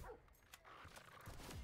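Short, faint dog barks and yips from the dog in Call of Duty Black Ops 4, a couple of quick bursts set against quiet game ambience.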